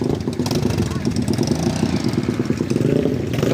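A motorcycle engine runs and revs close by on a ride home, a loud chugging rumble that pulses throughout while people talk over it.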